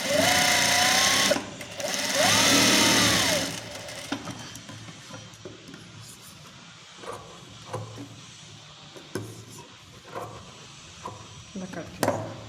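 A sewing machine stitching a Katori blouse runs in two loud whirring bursts near the start. Quieter handling clicks and rustles follow, while a person speaks intermittently.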